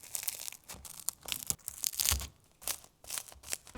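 A freshly baked New York-style pizza from a Gozney Roccbox oven is cut with scissors on a metal pizza screen: repeated crunchy snips through crust, loud and close, coming in uneven bursts with short pauses.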